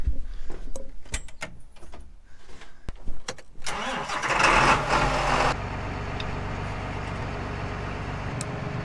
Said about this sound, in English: Let's get this tractor started and warmed up.